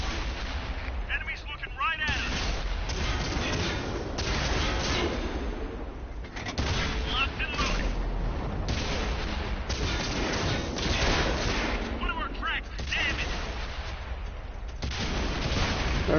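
Tank cannon fire in the World of Tanks video game, heavy repeated booming shots and rumbling explosions across the whole stretch, with a voice talking over them at times.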